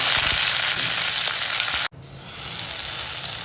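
Curry leaves dropped into hot oil with cumin and mustard seeds give a loud, bright sizzle that cuts out briefly, then resumes as a steady crackling hiss.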